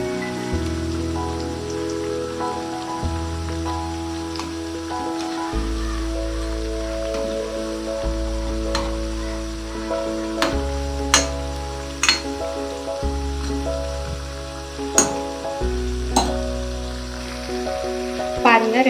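Elephant foot yam kola balls fry in hot oil with a steady bubbling sizzle, punctuated by occasional clinks and stirring sounds from a utensil.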